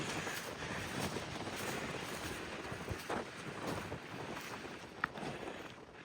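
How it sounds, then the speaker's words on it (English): Strong wind on a mountain trail near Mount McCrae buffets the microphone in a steady, rushing roar with a few gusty swells and one sharp knock. "Very windy, like I thought it would be."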